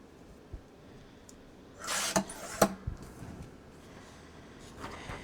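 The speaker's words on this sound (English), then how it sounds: "I'm just going to cut it on the big trimmer over here." A large paper trimmer slices through paper in one brief, rasping swipe followed by a sharp clack, close by in a quiet room.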